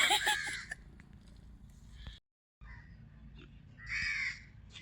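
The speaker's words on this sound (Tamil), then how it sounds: "இதுதான் அண்டங்காக்காவாம் ஃபுல் கருப்பாக இருக்குது பாருங்கள்" A house crow, fully black, caws harshly several times nearby, with a short burst at the start and another near the end over a low background hum.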